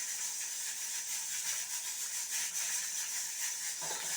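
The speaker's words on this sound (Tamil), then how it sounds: "மிளகு சீரகம் நல்லா பொரிஞ்சு வரட்டும்" Pepper and cumin frying in hot ghee for millet pongal, a steady bright sizzling hiss that holds evenly throughout at close range, with no talking over it.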